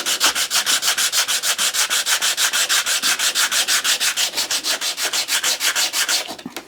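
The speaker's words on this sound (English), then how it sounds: "I'm not sure how well the sandpaper will get in there, but I'm just going to fold it like this." Folded sandpaper rubbed by hand into the corner of a wooden cupboard door makes a loud, close, rhythmic rasping, about six quick back-and-forth strokes per second, continuing steadily before tapering off at the end.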